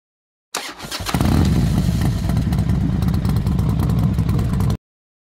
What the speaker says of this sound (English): You've got Honda's renowned 999 cubic centimeters liquid-cooled parallel twin engine.